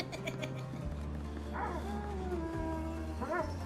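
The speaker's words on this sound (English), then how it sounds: "Why does it sound like a bunch of dogs whining?" High, whining dog-like creature cries in a video game, several rising and falling whimpers and yips overlapping against a steady low game soundtrack.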